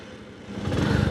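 A 2018 Bajaj Platina Comfortec motorcycle engine catches and settles into its small single-cylinder exhaust putter, faint at first then swelling louder over a short second.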